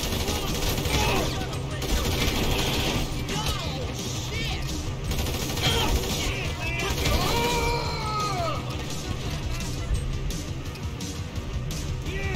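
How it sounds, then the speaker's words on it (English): Chaotic video-game gunfire from a man with a gun rattles in dense bursts alongside crashes, with people shouting and talking over the noise throughout. "There's a guy with a gun!"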